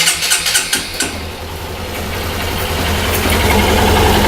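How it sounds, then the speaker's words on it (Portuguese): A Honda Bros motorcycle engine cranks with a few rhythmic starter pulses, then catches and settles into a loud, steady idle close by. "Vou ligar aqui a Bros."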